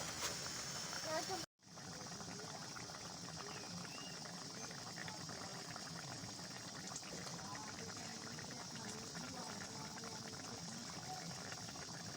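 Curry broth for a vegetarian potol and mustard-poppy dish bubbles steadily in a pan, a dense continuous simmering hiss that cuts out for a moment near the start, then carries on evenly at close range.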